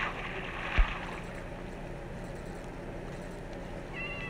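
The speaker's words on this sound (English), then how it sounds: "I kind of want to tame the cats." A cat meows faintly in a pirate video game, with a soft, brief high call near the end over a steady ambient wash of water and wind, after a single low thump early on.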